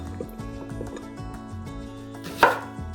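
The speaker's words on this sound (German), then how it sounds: "Eine Schalotte halbieren." A knife chops on a cutting board in a home kitchen, several soft rhythmic taps followed by one louder cut as a shallot is halved, with faint liquid sounds in the background.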